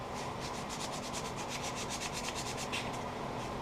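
A turned wooden coffee scoop gets a touch-up with 240 grit sandpaper: steady, close, fast back-and-forth rubbing, a soft continuous scratchy hiss with a rhythmic pulse.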